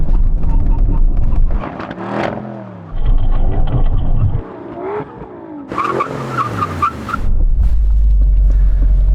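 Aston Martin V12 cars accelerating and braking hard during a drag race brake test: loud engine roars rising and falling in pitch, tires squealing under hard braking, then a deep idle rumble at the end.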